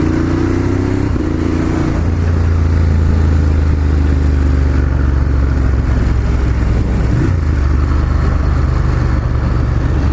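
A Ducati Monster 1200S riding with a steady engine drone, the pitch dropping briefly as the quickshifter snaps through gear changes, loud and close over wind rush.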